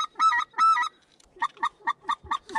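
Speckle-bellied geese call close by in a field: two long honking cries, then a quick series of shorter yelping calls in steady rhythm.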